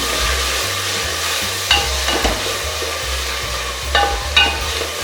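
Onions sautéing with salt and turmeric in a pan, a steady sizzle with several sharp scrapes and knocks of stirring, heard up close with no talking.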